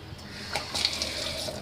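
A kitchen tap runs steadily over an empty sugar container as it is rinsed and left to soak. The water sounds close and continuous, with a brief, brighter gush as the stream strikes the container.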